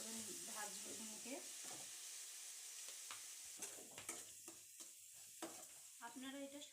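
Ginger paste fries in hot oil in a pan, giving a steady, soft sizzle broken by scraping stirring strokes and small pops close by.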